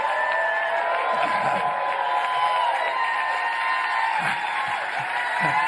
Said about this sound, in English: people stand and applaud at the start